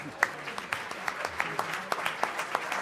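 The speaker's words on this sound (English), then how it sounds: "Give yourselves a round of applause for that." Thin, scattered applause from a small audience at a civic town-hall year-in-review event, individual claps popping out in an uneven rhythm, fairly quiet and brief.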